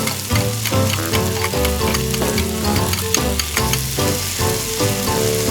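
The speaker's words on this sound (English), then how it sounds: "Pour oil into the pan. Add garlic to the pan. Continue to add potatoes and carrots. Stir and flip." Garlic, potatoes and carrots fry in oil in a pan, a loud, close, continuous sizzle broken by repeated scraping strokes as the food is stirred and flipped.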